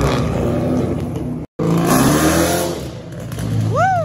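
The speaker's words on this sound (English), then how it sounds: "This is one of the loudest Camaros I've ever heard in my entire life." Loud turbocharged Chevrolet Camaro V8 at a car meet revving hard, a continuous roaring engine with a brief cut and rising pitch sweeps near the end.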